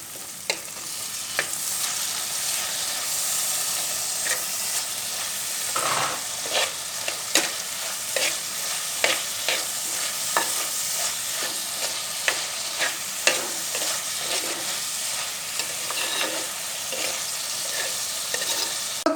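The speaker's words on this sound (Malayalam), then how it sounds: "തക്കാളി അരിഞ്ഞു വെച്ചിരിക്കുന്നത് ഇതിലേക്ക് ചേർത്ത് കൊടുക്കാം." Chopped tomatoes frying in a pan for Kerala stingray (thirandi) curry: a steady, close sizzle broken by regular scraping stirs of the spoon, with no talking.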